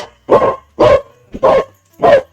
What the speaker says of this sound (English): My dog stopped barking.